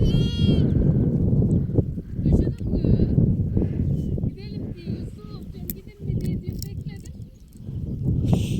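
Sheep bleat several times in short, wavering calls amid farmyard noise, with people talking nearby through most of it.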